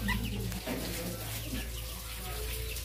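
A brooding Thai Chabo bantam hen gives soft, low clucks and murmurs nearby, faint against a background hum with some voices around.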